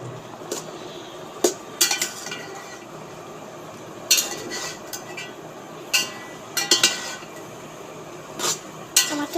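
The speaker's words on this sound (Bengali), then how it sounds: "এই পর্যায়ে আমরা একটু এটা নেড়ে চেড়ে দিচ্ছি, যাতে এটা স্বাদটা আর একটু ভালো হয়।" Bottle gourd greens being stirred in a pan, with a spoon or spatula clinking sharply against the metal at irregular intervals over a soft steady background, no one talking.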